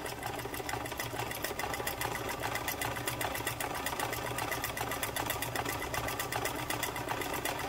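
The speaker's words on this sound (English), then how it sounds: "So let's do just a straight stretch stitch." A 1949 Montgomery Ward UHT J sewing machine runs a straight stretch stitch, its needle moving back and forth in a fast, steady mechanical chatter that stays loud and unbroken throughout.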